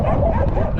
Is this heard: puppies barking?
yes